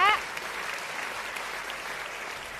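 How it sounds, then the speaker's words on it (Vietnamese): A studio audience claps for young contestant Ngọc Hà on a Vietnamese children's music competition TV show. The applause is brief and steady, with a short voiced sound at the very start. "một tràng pháo tay cho Ngọc Hà"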